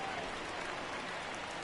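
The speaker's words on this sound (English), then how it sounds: "Boy, they're booing Doge in Baltimore." A stadium crowd in the baseball video game MLB The Show, a steady loud wash of noise from many people sustained without a break, the individual voices blurred together.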